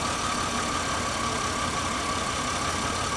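A 2001 Pontiac Grand Am engine with a misfire idles steadily nearby, a continuous even drone with no voices over it while spark plug wires are shorted out one at a time.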